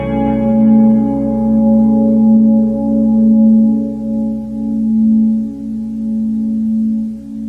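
Sustained chord with a flat 9 and sharp 5, built from stacked major and minor triads, ringing steadily and loud for several seconds with a slow gentle swell and no talking.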